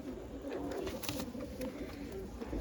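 Jamrili panja pigeons at a pigeon sale and show coo steadily and softly under a dense, continuous wash of background noise on a cloudy day.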